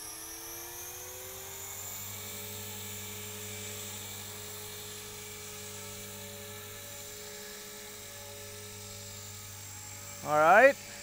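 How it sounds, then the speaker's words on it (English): A radio-controlled helicopter air taxiing at an RC club flying field gives a steady, fairly close whining drone of rotor and motor throughout, ending in a brief louder rising burst. "Oh, you're going to air taxi it, Dave?"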